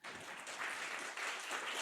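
Audience at a university game jam presentation giving a round of applause, a short, dense wash of clapping heard at a distance and fairly faint, steady throughout.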